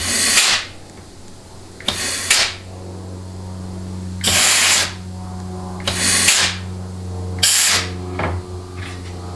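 Compressed air blown into a 3-5-R clutch drum during a 6L90 transmission teardown: five or six loud hissing bursts, each lasting about half a second to a second, separated by pauses over a steady low mechanical hum, with no talk.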